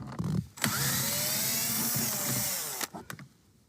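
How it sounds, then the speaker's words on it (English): A power drill whirs loudly for about two seconds in one steady burst removing a bolt on a Nissan Maxima, with brief clicks and handling noise before and after. "You can use a socket wrench or a power drill just like this"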